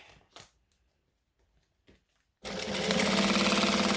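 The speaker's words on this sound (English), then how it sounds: "And then top stitch we go." After a few quiet, faint handling sounds, a sewing machine starts up for top stitching fabric, running loud and continuous with a fast, even mechanical rattle to the end.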